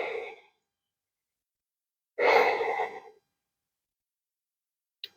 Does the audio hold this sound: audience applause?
no